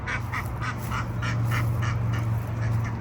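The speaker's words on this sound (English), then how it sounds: "It's where all these birds are kind of congregating around." Geese and ducks gathered at a drip water station quack and honk in a rapid, repeated series over constant running water and a low background hum. No one speaks.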